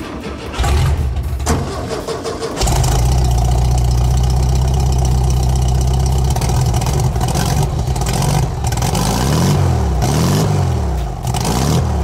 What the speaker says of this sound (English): This is a new engine, but it's a little cold, so we're gonna let it warm up just a minute.